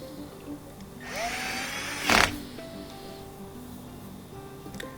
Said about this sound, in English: As the small Torx 15 screw goes here at the bottom.